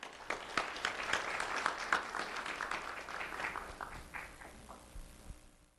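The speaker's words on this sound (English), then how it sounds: "Let's have a round of applause for Michael Lee." An audience at a sheriff's office award ceremony for middle school students applauds, building to a full round of clapping, holding steady, then thinning to a few last claps before stopping.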